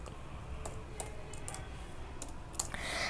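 Someone types code on a computer keyboard, producing a handful of sparse, separate key clicks at an irregular pace over a quiet room hum, with a slightly louder tap near the end.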